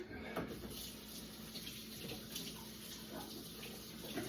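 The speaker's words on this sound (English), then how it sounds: "I'm gonna rinse my hands off real quick." Water from a tap runs steadily over hands being rinsed in a sink during outdoor BBQ prep, a continuous close splashing hiss with small shifts as the hands move through the stream.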